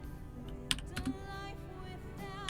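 Keys clacking on a computer keyboard as a netstat command is typed into a Linux terminal, a few quiet, irregular taps spread over a couple of seconds against a steady faint hum.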